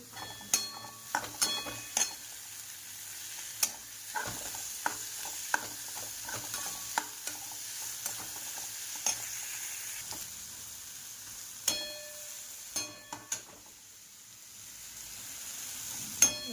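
Moth beans being stirred in a pan, a soft low background hiss punctuated by repeated sharp scrapes and clinks of a spoon against metal at an irregular pace, close and fairly quiet, with no talking.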